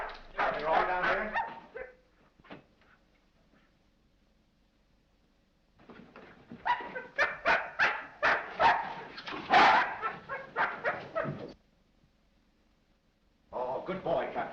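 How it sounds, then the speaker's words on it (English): A dog in the 1933 film The Kennel Murder Case barks, yelps and whimpers in several close bursts of rapid barking, separated by quiet pauses, with people talking between and over the barks. "This dog's been struck a nasty blow."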